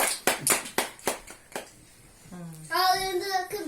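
A few hand claps ring out at a child's birthday greeting, sharp separate slaps close by, fading into a pause before a voice rises.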